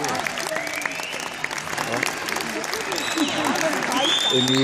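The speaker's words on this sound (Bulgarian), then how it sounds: "Аплодисменти за тях." A crowd applauds steadily, the clapping growing slightly louder, while a voice speaks over it.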